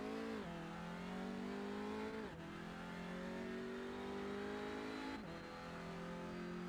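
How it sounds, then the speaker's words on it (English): Audi TCR front-wheel-drive race car heard onboard during a lap of Imola, its engine loud and droning as it revs up steadily, with two sharp gear shifts dropping the pitch before it climbs again. "give the viewers a bit of an experience of what it's like to drive a TCR car around this track on board"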